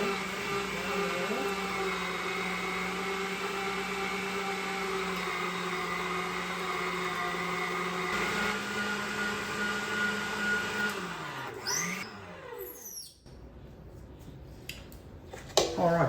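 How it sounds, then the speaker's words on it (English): An electric meat grinder runs steadily with a constant motor whine as inch-wide chunks of freshly killed wild turkey are fed through, close and continuous, then the motor winds down near the end with some clattering. "Just chunks is all going in the grinder right there."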